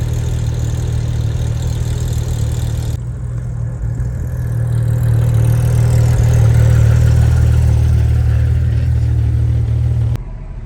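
A Porsche GT3 RS sports car runs in a steady, loud low rumble near the microphone, rising slightly in the middle before briefly dropping near the end, with no voices.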